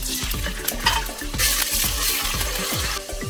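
Onions frying in vegetable oil in a pan for a chicken curry with spinach and fenugreek, a steady close sizzle with rhythmic stirring scrapes and clinks of a utensil against the pan throughout, no talking.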